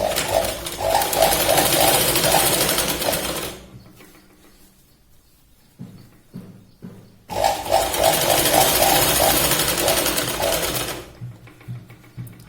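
Sewing machine stitching a katori blouse, two loud sustained runs of rapid rhythmic needle clatter separated by a quieter pause with a few faint thumps.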